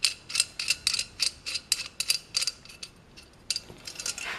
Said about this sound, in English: So we have to loosen that all the way.